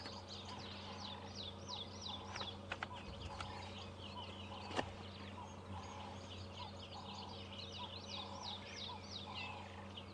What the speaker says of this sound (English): as you can hear, the birds are going crazy